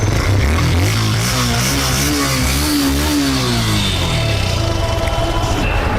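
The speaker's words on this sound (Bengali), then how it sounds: "18 মডেল গাড়ি দেখেন সাউন্ড কত স্মুথ" A used 2018-model motorcycle with a lightly scratched silencer idles and revs steadily up close, its engine note rising and falling in smooth waves without a break.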